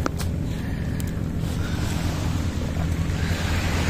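Sea waves wash onto a beach in Ilocos Norte in a steady, fairly soft rush, with wind buffeting the microphone and a couple of faint clicks early on.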